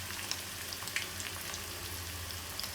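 Soft, steady sizzling of raw minced-meat kebabs frying in oil in a pan, low and even with faint crackles and pops throughout, no voices.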